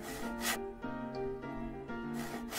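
The nails of a Huggy Wuggy toy are filed, with two short raspy scraping strokes at the start and end over a soft tonal background, quiet and close.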